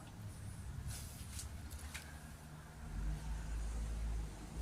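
A 1939 Hillman car engine with a fuel pump fault, its carburettor hand-primed, is being coaxed to start: a low, rough mechanical rumble that swells louder near the end, with no talking.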